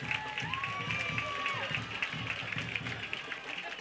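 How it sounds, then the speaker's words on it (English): Spectators at a high school homecoming football game, NPHS versus Pennsbury, applaud an injured player leaving the field. Distant, diffuse clapping and crowd noise sit under a voice talking throughout. "And the crowd gives him a well-deserved round of applause."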